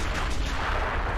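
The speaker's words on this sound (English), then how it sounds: "Goddamn mortars." Mortar fire pounds across a Pacific War battlefield at Clarence Hill in Men of War Assault Squad 2, a dense, continuous wash of booming low rumble through the whole short stretch with no clear gaps.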